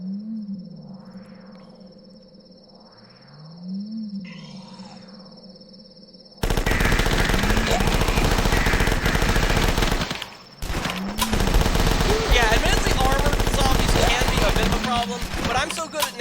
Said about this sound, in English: I'm gonna try out the Uzi and see if it's better than the MP5